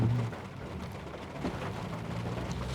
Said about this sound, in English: Got the rain going on in the background.